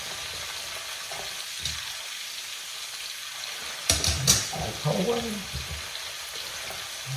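Chanterelle mushrooms fry in a pan with a steady sizzle, with a brief burst of clatter and stirring partway through and a short spoken phrase.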